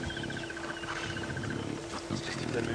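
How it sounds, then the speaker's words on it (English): Lion cub calling at a crowded safari sighting at dawn, small repeated cries mixed into a dense wash of wild background noise, with voices speaking over the scene. "That's a cub making that noise"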